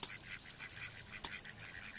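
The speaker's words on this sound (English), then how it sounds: "there's some ringneck ducks out there" Ringneck ducks on a spring pond in Elgin, Texas, giving a few faint, distant honking calls spaced over about two seconds in quiet outdoor air.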